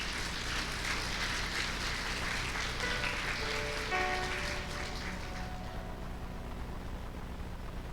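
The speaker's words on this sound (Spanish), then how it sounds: "Dele aplausos al Señor por la palabra" A church congregation applauds during a service, a broad, continuous wash of many hands clapping that softens and thins out toward the end.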